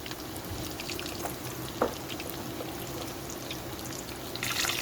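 Potato cheese balls shallow frying in oil, a faint steady sizzle and crackle with a brief louder pop midway, quiet and continuous.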